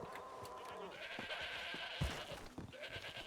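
Goats bleat repeatedly on a farm in a roleplay ranching game, several wavering calls overlapping at close range over a steady ambient background.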